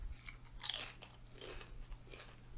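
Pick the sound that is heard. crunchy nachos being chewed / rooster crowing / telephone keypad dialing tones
crunchy nachos being chewed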